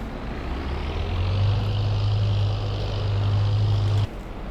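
Tractor engine in Farming Simulator 22 drones loudly and steadily with a low hum, swelling slightly before cutting down abruptly near the end; no talking.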